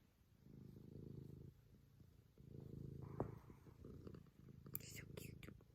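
A house cat purrs very softly and close in a quiet room at night, a low rumbling pulse in long swells with brief pauses, with faint rustling and a few small higher sounds near the end.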